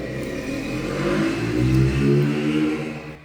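A motorcycle engine revs steadily and loudly for a few seconds, its deep rumble swelling slightly toward the middle with no voices over it.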